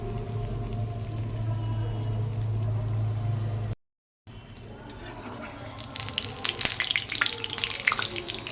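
Malpua batter fries in oil in a small wok with a steady sizzle and a low hum, a short silent gap, then louder, crackly frying bursts. A person talks over part of it.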